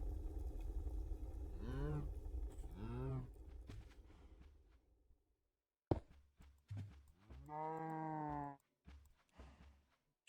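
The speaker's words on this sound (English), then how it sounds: "Stupid cow." A cow moos in Minecraft, with two short lowing calls, then a longer, louder drawn-out moo after a brief silence, against quiet footsteps and game background noise.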